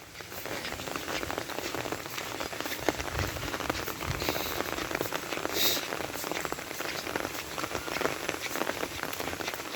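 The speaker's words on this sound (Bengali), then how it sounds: "টিপ টিপ টিপ টিপ বৃষ্টি পড়তাছে" Light monsoon rain falls on a village road in Dhobaura, a steady, even patter of drops hitting the ground with no voices, holding a constant level throughout.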